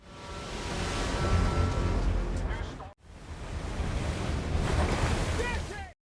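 Stormy sea surf roars in a continuous loud wash with heavy wind noise, cut by a brief silence partway through before the crashing waves resume, then stops abruptly.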